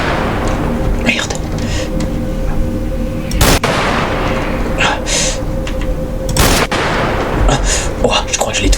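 Gunshots in the video game Wasteland, a couple of sharp loud cracks and scattered impacts under almost constant excited talk.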